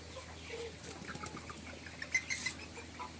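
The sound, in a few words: chickens clucking in a poultry shed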